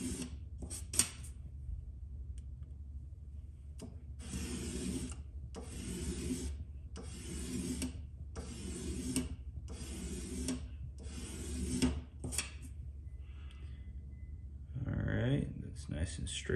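Hand file scraping across a Mazda RX8 rotary engine side seal to remove burrs, a run of about eight steady, evenly spaced rasping strokes, close and fairly quiet, with a person talking before and after.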